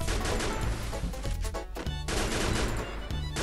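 Gunfire in the Free Fire video game: rapid bursts of loud automatic shots with brief pauses between volleys, close and dense throughout.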